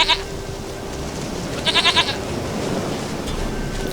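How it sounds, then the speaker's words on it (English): A goat bleats in The Witcher 3 video game: one short bleat at the start, then a longer wavering bleat, over a constant loud hiss-like ambient background. "Goat of mine, dearest, sweetest goat."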